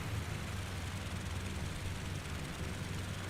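Fokker F.VII engines in Flight Simulator, a steady, dense propeller drone with a low throbbing pulse, continuous and close, no voices.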